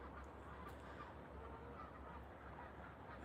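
Geese honking faintly in the distance outdoors during a wildlife walk, steady scattered calls under low background rumble.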